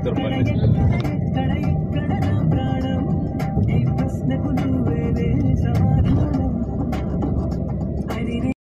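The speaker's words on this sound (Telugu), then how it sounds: "లారీలు" Lorries and other heavy road traffic rumble past continuously on a busy road during a family summer holiday trip, a dense steady drone with a speaking voice mixed in over the engine noise.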